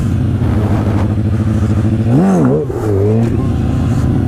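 A stunt motorcycle engine runs steadily in second gear, holding a loud, close, even drone before a quick rev that rises and dips, then settles back into a steady pull.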